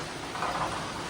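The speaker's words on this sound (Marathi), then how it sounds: "धुमशान पाऊस झाला चालू झालेला आहे" Steady, dense hiss of heavy rain pouring down, a constant wash of noise with no breaks or voices.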